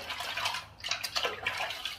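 Water splashing and running while lather is rinsed off after a shave with Williams Menthol shaving cream, a Yaqi razor and a Yaqi Oceans brush; close, steady watery sloshing with uneven surges, no talk.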